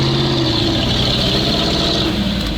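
A GAZ-66 or ZIL-4975 off-road truck engine roars loudly and steadily as it accelerates on rough terrain, a constant close rumble with no pauses.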